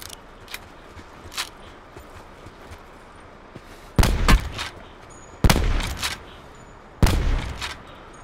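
Gunfire rings out in a first-person shooter video game, with three loud, sharp shots spaced a second or two apart near the end, after quieter scattered distant pops and rustling.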